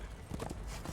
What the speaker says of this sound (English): Why is summoning my horse such a powerful move?